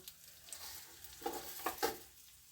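Curry leaves dropped into hot oil for a spinach and drumstick chutney crackle in a few quick sharp pops, faint at first and then three close bursts of sizzle.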